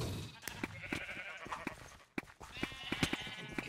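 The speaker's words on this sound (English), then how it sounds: "Back off my sheep, bro." Sheep bleating in the video game Minecraft, a few short bleats amid rapid clicking and tapping game sounds, with a person talking in the background.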